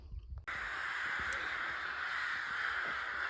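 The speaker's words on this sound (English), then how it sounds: "there you have at least a murder of crows and all their nests" Crows cawing near their nests along the Via Transilvanica in Romania, a steady flock chorus filling the air continuously with a broad hiss of calls, no talk.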